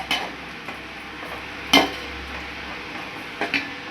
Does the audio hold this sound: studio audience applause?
no